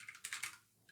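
Quick burst of typing on a computer keyboard while coding in a NeoVim editor, a few light close clicks in under a second, faint and without talk.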